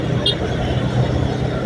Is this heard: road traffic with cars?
yes